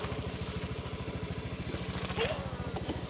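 A rented motor scooter in Thailand chugs along with a steady, rapid engine pulse close to the microphone, running continuously while a voice briefly cuts in over it.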